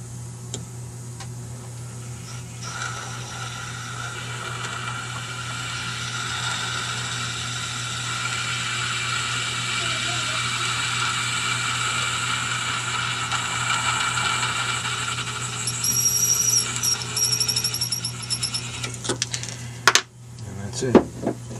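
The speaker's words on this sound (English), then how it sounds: "We'll chamfer this side a little bit. Cut off, and we'll have our bushing." A metal lathe chamfers and parts off a bushing, a steady whirring cut with a constant low motor hum that runs for most of the stretch, ending in a few clicks and knocks as it stops.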